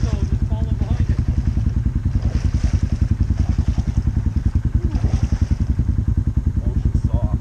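A pack of ATVs runs a trail, engines revving and burbling steadily up close as one follows behind another, with people talking over the continuous engine noise.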